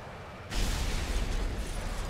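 A bomb bursts on a destroyer in the War Thunder video game, a sudden loud broadband blast that lands about half a second in and rolls on as a sustained rumbling roar, with no talk over it.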